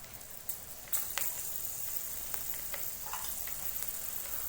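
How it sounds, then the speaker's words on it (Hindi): Garlic frying in hot ghee along with fried melon seeds and almonds, giving a steady close sizzle with a few sharper crackles and spatters and a brief louder burst as the garlic goes in. "अब हम इसके अंदर जो है वो लहसुन जो हमने लिया था वो ऐड करते हैं और फिर इसको मिक्स करते हैं"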